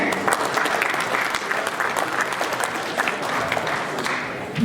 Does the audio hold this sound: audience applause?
yes